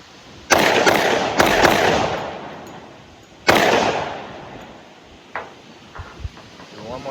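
Three loud, sharp pistol shots from a SIG and a Springfield Armory XDM Elite 10mm: two quick reports close together, then a third after a pause. Each one rings out and decays, followed by faint handling clicks.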